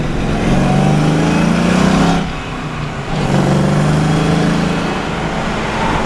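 A 1986 Mustang GT engine drones loud and close at steady cruise while driving a dark road on a cold night, a low harmonic hum that dips briefly around the middle as the throttle eases, then swells back up.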